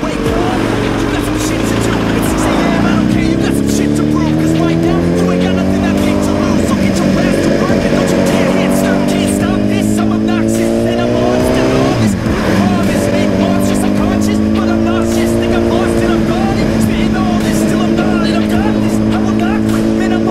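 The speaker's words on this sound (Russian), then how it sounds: "Я еду на мотоцикле" Motorcycle riding along a road past traffic, steady engine drone with rising and falling gear-change pitch throughout, wind roar loud, a voice talking over it.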